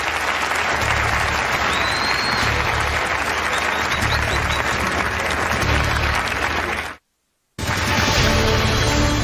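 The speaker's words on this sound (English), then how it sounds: "Please give some applause to the candidates." Loud, sustained audience applause for candidates on stage at a televised Republican presidential debate in California, steady dense clapping with a brief cut to silence near the end before it resumes.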